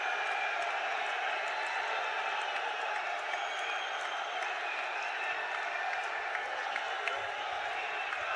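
A large outdoor political rally crowd applauds continuously to welcome Prime Minister Narendra Modi in Pushkar, a dense, even wash of clapping that is steady and distant-sounding.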